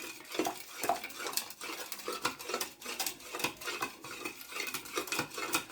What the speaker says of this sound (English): So to start, I'm gonna add the sugar in my milk. I'm going to stir it.